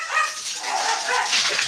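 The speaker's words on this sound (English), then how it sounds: "We can hear your dog." A dog barks and yips in short, slightly muffled bursts, at moderate loudness and without clear pauses, heard alone without talking.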